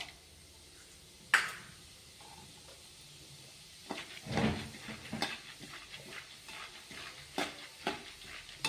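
Roasted chana (putani) fries in a pan, stirred with a spoon that makes sharp scrapes and knocks over a low sizzle, including one loud clank early on and busier stirring in the second half.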